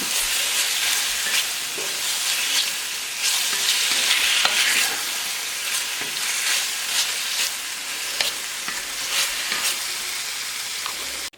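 Salt-and-pepper seasoned beef browning in a pan, a loud, steady close-up sizzle with broad hiss and occasional scraping stirs, continuous throughout with no talking.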